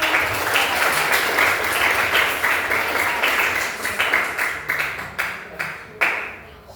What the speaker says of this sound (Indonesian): Tepuk tangan terus.